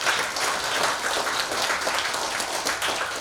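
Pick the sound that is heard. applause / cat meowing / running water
applause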